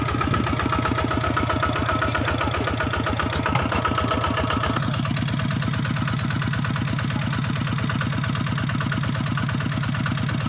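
A tractor engine runs steadily in a rice field during plowing, with a loud, close, chugging rumble that pulses evenly throughout and shifts slightly in tone midway, and no voices.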